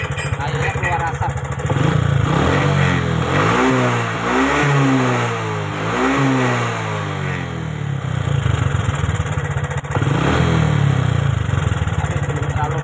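A Honda Karisma motorcycle engine with a rough-running fault and smoking exhaust, revved loudly up and down several times close by, idling between throttle blips while someone talks over it.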